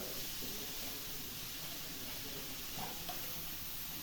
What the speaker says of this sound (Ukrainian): У мене все смажиться на олії